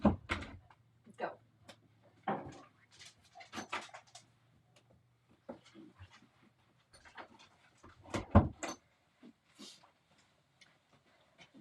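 A dog pants in short, uneven bursts while a door is opened to let it out, with thumps, rustles and faint pawing scattered across the scene.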